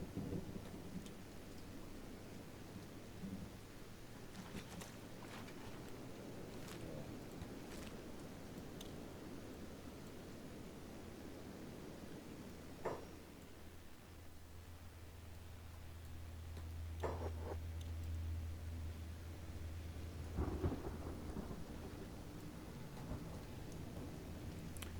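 Steady rain falls in a swamp in the video game Kenshi, with a continuous wash of rainfall, a low rumbling drone and a few sharp, distant thunder cracks, with no voices.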